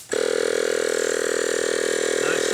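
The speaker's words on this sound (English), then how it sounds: "It has its own compressor built into the nail gun." A loud, steady mechanical whir with a rapid pulsing buzz from the compressor built into a cordless nail gun, starting abruptly and holding steady.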